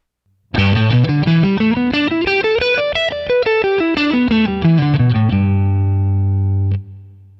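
Overdriven electric guitar runs quickly up and back down a bright major pentatonic pattern, then lands on a sustained low note that rings out and fades.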